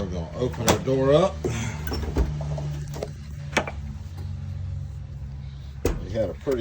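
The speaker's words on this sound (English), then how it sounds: "We're gonna open our door up." A Pit Boss pellet smoker door is pulled open with metallic clunks and scrapes, while someone talks throughout.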